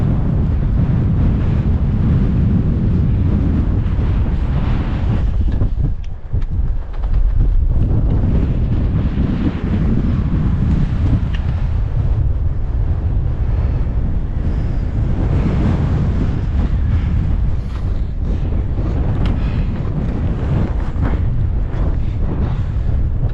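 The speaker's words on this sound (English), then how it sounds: "It's very windy." Strong, constant winter wind in wild hill country roaring and buffeting the microphone for the whole stretch, a dense low rumble with gusty swells and no voices.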